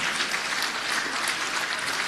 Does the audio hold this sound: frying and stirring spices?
no